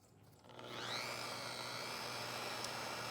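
A rotary scrubber with a UFO pad and small backing plate starts up at low speed on a cloth car seat, rising within a second to a steady whirring drone that stays constant and close.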